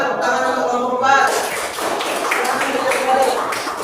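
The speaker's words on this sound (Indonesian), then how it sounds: "tepuk tangan untuk kelompok 4." A classroom of students clapping for a presenting group, a dense burst of hand claps close by with voices mixed in throughout.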